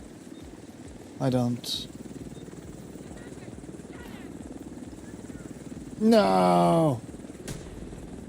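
Video game helicopter with a low rapid rotor chop pulsing steadily underneath, faint to moderate, while someone speaks briefly twice over it.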